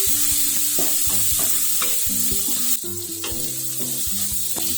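Spice powder stirred into a sizzling tempering in a pan for pepper rasam, with steady frying sizzle and repeated clinks of a spoon scraping the pan, the sizzle swelling louder partway through.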